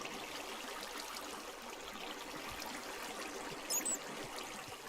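Flowing water in the Minecraft video game, a faint steady trickling stream with soft hiss, continuous and distant, with a brief small blip near the end and no talk.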